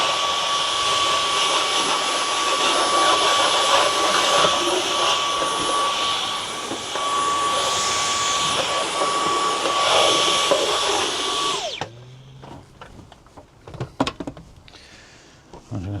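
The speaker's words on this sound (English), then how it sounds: "Right, vacuum. Let's get them bits up there." A vacuum cleaner runs loud and steady for about twelve seconds during a ceiling light fitting job, with a constant whine, then cuts off abruptly, leaving quiet handling clicks and knocks.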